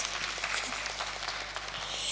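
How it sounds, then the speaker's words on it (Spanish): Audience applause at a women's summit on depatriarchalization in Bolivia, a dense, steady patter of many hands clapping at moderate distance, continuous for the full stretch with no voices over it. "un aplauso grande para Olguita, por favor"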